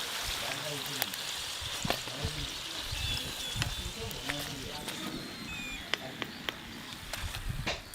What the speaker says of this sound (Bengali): এইগুলোও কিন্তু সুন্দর করে ভাজা হয়ে গেছে, আর দেখুন কিরকম ফুলছে।